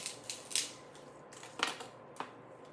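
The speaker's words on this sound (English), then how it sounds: "I'm gonna go ahead and cut it halfway." An object is cut in half with a handful of sharp, separate snips spread unevenly over a few seconds, close by in a quiet room.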